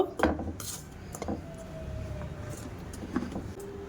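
A spoon stirs flour with a little salt and sugar in a bowl, giving light clinks and scrapes against the side, with a couple of sharper taps near the start and no talking.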